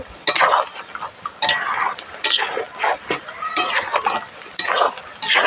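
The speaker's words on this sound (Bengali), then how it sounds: "এবার একটু নাড়াচাড়া দিয়ে এটাকে নামিয়ে চলুন" Beef kala bhuna stirred in a pan, repeated close scraping and clanking strokes of a spoon against metal in uneven bursts, with a voice speaking in between.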